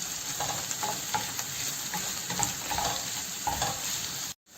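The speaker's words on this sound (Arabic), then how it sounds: "وراح نقليها معاهم ثاني حوالي دقيقتين" Small cubes of sweet pepper fry in a pan with other ingredients, a continuous close sizzle with light stirring scrapes, cutting off abruptly at the very end.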